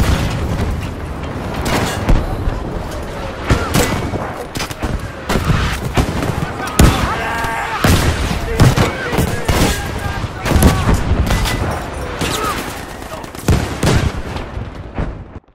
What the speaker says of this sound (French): besoin d'un barrage d'artillerie sur cette position